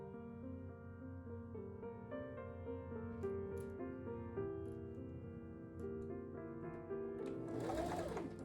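Home sewing machine stitching a linen gardening apron, a steady mechanical whir with rhythmic needle clatter running throughout, with a few small clicks and a brief rustle near the end.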